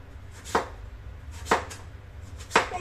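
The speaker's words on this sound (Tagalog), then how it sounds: "gagawin natin siya dito is ganyan lang siya. Hiwain lang natin." Three crisp knife chops through a firm green papaya, spaced about a second apart, close and distinct over a quiet background.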